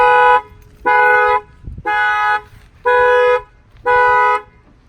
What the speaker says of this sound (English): Now the factory alarm fires off.